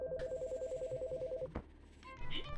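A telephone in the video game Chicory: A Colorful Tale rings with a rapid warbling electronic trill for about a second and a half, followed by softer game chimes and effects.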